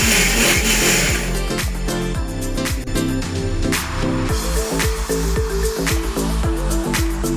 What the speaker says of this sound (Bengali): তো এখন আমি এটাকে ব্লেন্ড করে একদম নরম